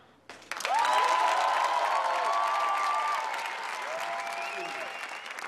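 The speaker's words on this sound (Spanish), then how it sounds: "Hay veces que cuando uno ve una presentación tan sólida, lo único que le queda es aplaudir." A live audience breaks into loud, sustained applause after a cha-cha dance performance, dense clapping with whoops and cheering voices rising over it, holding strong for several seconds before easing slightly.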